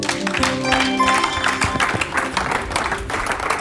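A church congregation claps and cheers in praise, a steady patter of applause with voices rising beneath it and a held musical tone fading early on.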